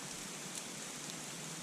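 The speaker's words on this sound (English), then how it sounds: "In the rain." Rain falling steadily at a campsite in Big Sur, a dense even hiss of drops on surfaces, close and unbroken for the whole short stretch, with no voices.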